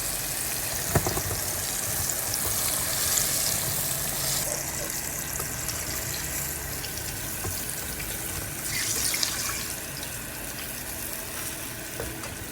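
Pork ribs frying in hot oil and being lifted out, giving a steady, even sizzle with a brief clink near the start and another around nine seconds, heard close with no talking.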